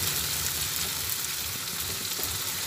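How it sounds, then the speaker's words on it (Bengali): Spice paste frying in hot oil in a pan, a dense continuous sizzle with low bubbling crackle, close and steady with no voices. "তেলের মধ্যে দিয়ে দিলাম, একটু ভেজে নিচ্ছি।"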